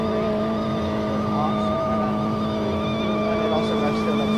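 A sporty car in the Roblox game Greenville launches with traction control on, its engine holding a loud, steady, high droning rev throughout.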